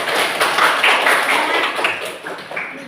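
Classroom applause for a student group after their advertisement presentation, a steady patter of many hands clapping together at close range, continuous and even.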